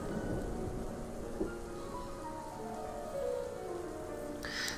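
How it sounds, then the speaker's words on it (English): Stormy weather with steady rain in the video game This Is The Police, a dense continuous hiss of rainfall with low rumbling underneath, faint and even throughout. "It's a very stormy day in Freeburg today."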